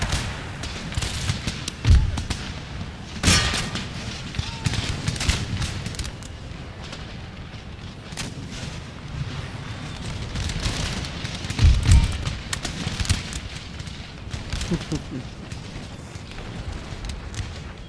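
Musket volleys in the Empire: Total War video game, with repeated booming cracks of gunfire and artillery-like blasts rolling over a continuous battle din across the whole stretch.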